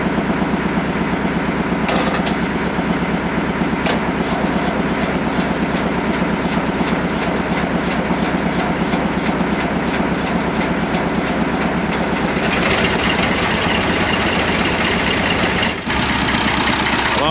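An old tractor engine idles after a cold start, a loud, close and steady mechanical chug with a fast rhythmic pulse, a brief shift in tone near the end and no talking.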